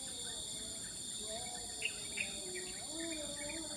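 Birds chirp and call in scattered bursts over a steady buzz of insects, a morning outdoor nature ambience in the wild with no voices.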